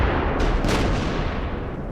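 Continuous heavy artillery fire in a 1942 battle between German and Russian soldiers, a dense loud rumble with a couple of sharper blasts standing out.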